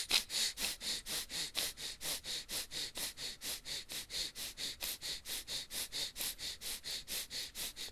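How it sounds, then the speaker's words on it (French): Bhastrika bellows breathing in a Kundalini yoga class, a fast, even train of forceful nasal inhales and exhales, roughly three per second, loud and close, with no talking. "Bastrika, inspire, expire."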